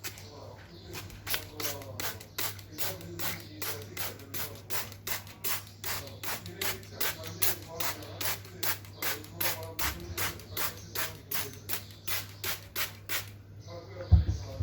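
Soapnut cleaner sprayed onto an oily kitchen cabinet in a long run of rapid, evenly spaced trigger-sprayer pumps, close and crisp, ending with a brief clatter.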